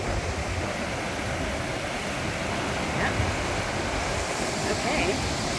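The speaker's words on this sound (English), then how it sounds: "The gorgeous ocean. Oh. Here I am in the ocean." Ocean waves and surf roll in a steady, broadband wash throughout, with wind noise buffeting the microphone and a faint swell around the middle and end.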